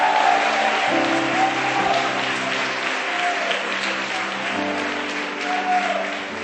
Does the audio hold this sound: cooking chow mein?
no